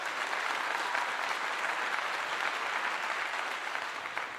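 A large crowd claps steadily at a post-game football event, a dense, even wash of applause that holds at a constant level and fades slightly near the end.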